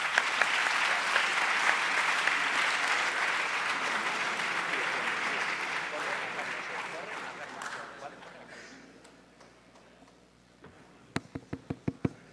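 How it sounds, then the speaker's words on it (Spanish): Sustained applause from an audience at a debate on bullfighting and animal rights, dense and even at first, then thinning out, with a few last separate claps at the end. "Y un aplauso para los ponentes,"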